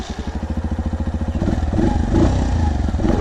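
A VGM Apache 125cc motorcycle engine starts up, first a fast regular cranking pulse and then catching into a loud, steady close idle.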